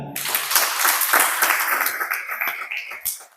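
An audience breaks into brisk, dense applause after a recited Marathi poem, a short burst of many hands that tapers off within a few seconds.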